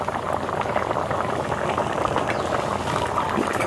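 Cabbage curry with fish balls bubbles in a pan, a close, continuous boiling burble with no voices.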